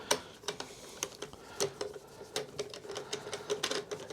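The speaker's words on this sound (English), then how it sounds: "I'm just going to use this hand driver" Hand driver loosening the bolts that hold a lawn mower's air filter housing to its bracket, giving a run of light, sharp ticking clicks at close range in an uneven rhythm, with no talking.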